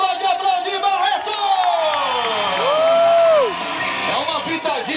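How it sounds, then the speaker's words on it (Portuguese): An audience at a motorcycle stunt show with pyrotechnics cheers and claps loudly, with many overlapping shouts and whoops, including a long sustained call swelling in the middle before the crowd noise settles. "E quem gostou pode aplaudir, Barreto!"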